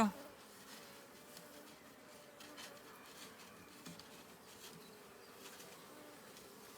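A soft, continuous buzz of many honey bees hums steadily at close range at an open hive, with faint rustling and handling noises.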